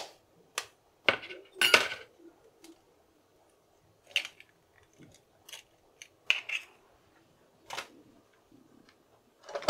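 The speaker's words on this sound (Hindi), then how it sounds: "एक अंडे हम तोड़ लेंगे" A kitchen scene with an egg cracked into powdered sugar and mixed, heard as sparse, sharp clinks and taps of utensil against a bowl separated by quiet gaps.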